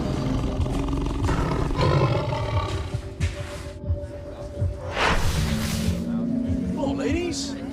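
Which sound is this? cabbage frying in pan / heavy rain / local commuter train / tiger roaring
tiger roaring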